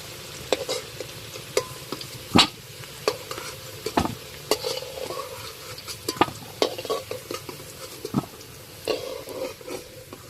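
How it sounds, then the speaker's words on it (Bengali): Potatoes fry in hot oil in a wok, with a soft steady sizzle broken by irregular scraping and clinking strokes as a spoon or spatula stirs them, close and fairly quiet. "আলুগুলো লাল লাল করে ভেজে নিয়েছি, এবার তুলে নেব।"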